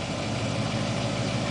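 A 455 Buick V8 in a 1939 Plymouth four-door idles steadily, a continuous, even low rumble heard close with no talk.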